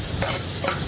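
Chopped onions frying and being stirred in hot oil for pepper chicken, a steady close sizzle with scraping stir strokes running through the whole short stretch.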